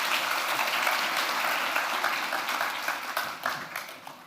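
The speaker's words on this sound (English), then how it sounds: "warm applause" Warm audience applause after a climate investing lecture, a full burst of clapping that gradually tapers and thins toward the end.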